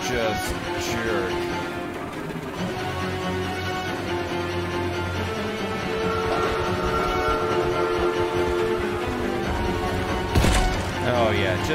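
A locomotive in the Choo-Choo Charles video game rumbles along with a steady mechanical drone and tonal hum, a sharp clank near the end, and someone talking over it.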